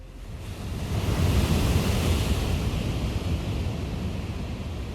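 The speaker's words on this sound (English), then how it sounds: "The ocean had decided to stay in storm mode for a while." Stormy ocean on the Cantabria coast: a continuous heavy roar of surf and wind, rising after the first second and holding steady, dense and close with no voices.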